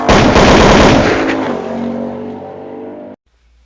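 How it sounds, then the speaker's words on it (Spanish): Dramatized gunfire in a story of a shootout at a hacienda, a loud rapid burst of shots blending into a roaring rumble that fades and cuts off abruptly, no talking. "Había balazos, había gritos."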